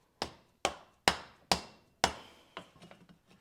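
Five sharp, evenly spaced hammer blows ring out close by on a drive shaft yoke, followed by a quicker run of lighter taps.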